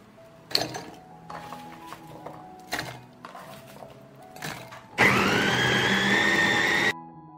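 Four peeled onions go through a grinder in short bursts of motor whirring and clatter, then a loud, sustained high whine for about two seconds before it cuts off.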